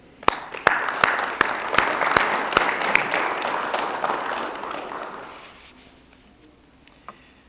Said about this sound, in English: let's give a big round of applause for my team, but also for you and this work that brought us here today